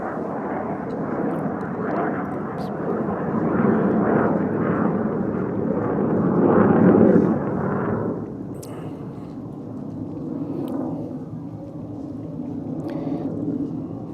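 A fixed-wing airplane passes overhead during a religious lecture, a broad continuous rumbling roar that swells over several seconds and then slowly fades, with no speech over it.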